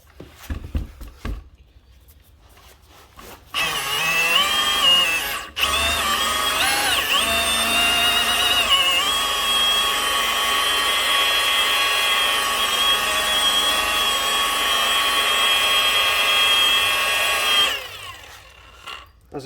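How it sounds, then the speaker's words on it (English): A rotary polisher with pad and polish buffs car paint while repairing road rash and chips. The machine whines loudly and steadily for about fourteen seconds, with small shifts in pitch as it works, then winds down near the end. "the pad on the rotary machine, and we're going to start buffing it off."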